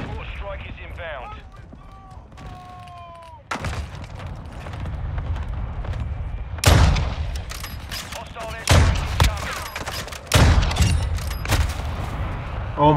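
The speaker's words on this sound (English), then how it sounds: "Our mortar strike is inbound" Mortar strike explosions in Call of Duty: Modern Warfare 2 (2022), with several loud, booming blasts arriving at irregular intervals amid rattling gunfire and continuous battlefield noise.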